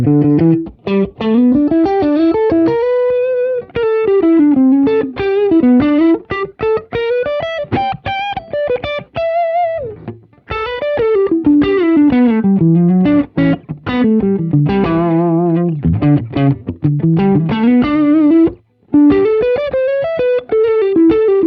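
An electric guitar played through a Line 6 Helix with a Tube Screamer drive in a warm, dark clean tone, with continuous loud funky melodic lines and chords and no talk.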